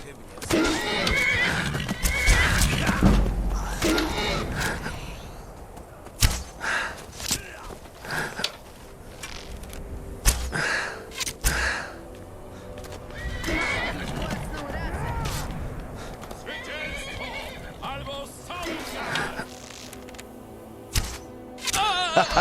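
Horse whinnying and hooves clopping in a video game with orcs and bandits, loud neighs recurring among footsteps and combat noise while players talk over much of it.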